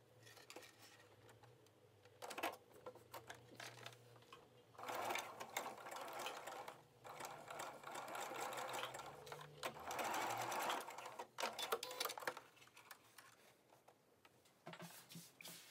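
A sewing machine zigzag-stitching a circle of swimwear elastic runs in several close, steady bursts with short pauses between them, and no one speaks.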